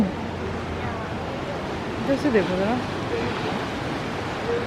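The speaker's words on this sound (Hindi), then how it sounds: "मैंने कहा पानी का बहाव काफ़ी तेज़ है ना।" Fast-flowing river water rushes in a steady broadband roar near a small bridge, with someone speaking briefly over it.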